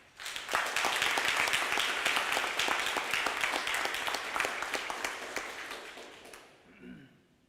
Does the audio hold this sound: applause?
yes